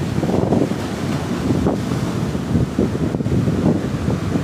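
Waves and wind on a beach on Nusa Kambangan island, Cilacap: steady roaring surf with gusty wind buffeting the microphone, loud and continuous with no speech.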